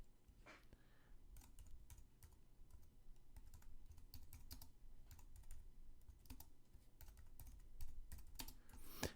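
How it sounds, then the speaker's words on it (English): Someone types steadily on a computer keyboard, the keys clicking in quick irregular bursts close to the microphone in a quiet room. "So I'm going to type that in."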